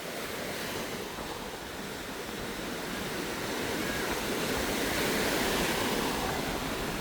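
Ocean waves wash continuously onto Boracay beach in rough, choppy conditions, a broad steady roar of surf mixed with wind noise, building slightly louder toward the end, with no talk.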